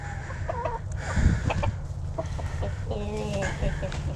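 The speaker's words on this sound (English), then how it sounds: "this one won't stop crowing" Farm chickens cluck and call in a busy coop, with a rooster among them; the calls come in short bursts over a steady low hum, fairly near and without speech.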